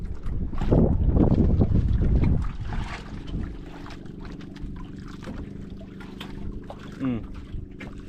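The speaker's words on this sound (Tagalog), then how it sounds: "Lakas ng hangin." Strong wind gusts roar across the microphone early on, then ease into a steadier rushing blow, with faint voices and splashy noises underneath.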